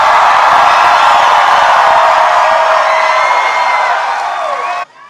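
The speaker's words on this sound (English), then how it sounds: "Boy, what a crowd." A huge rally crowd for Donald Trump in Geneva, Ohio roars and cheers in a loud, dense, continuous wash of voices before cutting off abruptly near the end.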